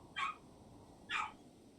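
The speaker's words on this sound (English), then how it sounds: "Doggy's barking outside." A dog barks outdoors inside a RimWorld game, two short distant barks spaced about a second apart over a steady background hum.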